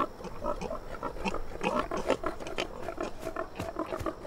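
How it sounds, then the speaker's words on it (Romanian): Pigs grunt and snort in a steady, busy chorus, close and fairly loud, with no voices over them. "Rabinule, trebuie să ocolim acești porci."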